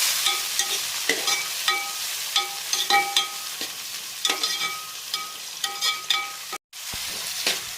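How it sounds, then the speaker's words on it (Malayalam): Onion and tomato sautéing in a pan for Kerala-style egg curry, a steady close sizzle broken by repeated scraping stirs, with a brief cutout near the end. "നമ്മുടെ സബോള മൂത്തിരിക്കുന്നു. അതിലേക്ക് നമ്മൾ തക്കാളി അരി വെച്ചിരിക്കുകയാണ്. ഇതിനി നല്ലപോലെ വഴലണം."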